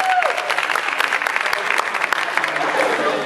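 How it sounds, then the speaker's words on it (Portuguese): A rap battle crowd at a freestyle semi-final cheers and applauds loudly and steadily, a dense wash of clapping and shouting that fills the clip with no pause. "Faz barulho pra batalha."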